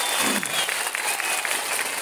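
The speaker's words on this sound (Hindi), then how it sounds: "दोनों के लिए जोर से ताली बजाइए जरा" A crowd at a political rally in Bani with Home Minister Amit Shah claps in dense, sustained applause, loud and continuous with no pauses.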